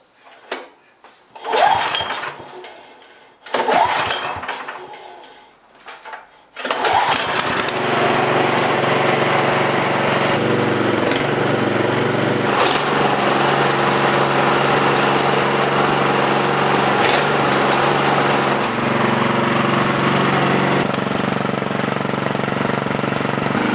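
A Troy-bilt/Cub snowblower with a new auger belt is pulled over a couple of times, then catches and runs: a loud, steady engine drone with the auger spinning, holding on for many seconds without a break.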